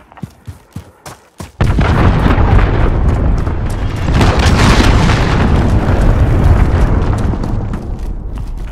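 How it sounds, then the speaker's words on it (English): Cruise missile strikes in Call of Duty Modern Warfare: a few scattered pops and thuds, then a massive, sustained roaring explosion that rumbles loud and continuous for several seconds before easing slightly. "Allied cruise missile launched."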